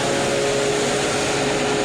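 Grain auger and dryer machinery running at a grain handling and drying facility, a steady loud broadband mechanical roar with a constant hum, no voices.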